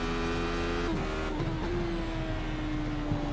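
Engine of a racing video game car powered by twin Suzuki motorbike engines with a 10,500 RPM rev limit, droning steadily at high revs, with its pitch shifting through gear changes, loud and constant throughout.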